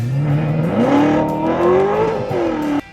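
A Chevrolet C7 Corvette engine revs up hard from a low idle, its pitch climbing and holding in a loud, smooth near snarl before cutting off abruptly.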